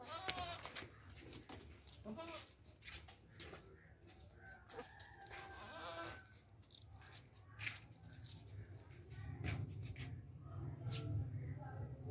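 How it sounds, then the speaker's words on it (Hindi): Goats bleat in a farmyard alongside crowing and clucking chickens. The calls are faint and scattered over a low background murmur. "लंबी और चौड़ी बकरी है, ऊंची बकरी है, खूबसूरत बकरी है।"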